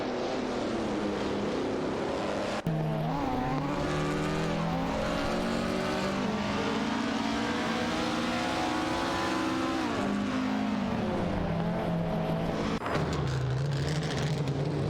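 Racing cars in an AI racing video game, including a Mercedes-Benz 196 and an Alfa Romeo 159, accelerate hard with engines climbing through the revs in a sustained whine, dropping at gear shifts and rising again over nearly fifteen seconds.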